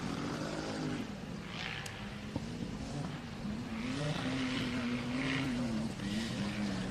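Off-road Ultra4 race car engines racing at MidAmerica Outdoors in Jay, Oklahoma, a sustained distant engine drone with a rising and falling pitch as a car revs through the course, steady and unbroken.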